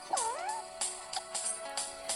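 A cat gives one clear, rising-and-falling meow up close, followed by soft scattered clicks and rustles.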